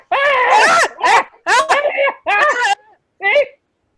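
In an audio drama, two people cry out in anguished, wavering screams, in several long bursts with short gaps between them. The voices are close, loud and strained and break into moans toward the end.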